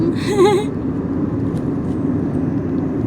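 Car cruising along a Thai expressway at night, a steady broadband road and engine rumble running throughout, with a brief tonal warbling sound near the start.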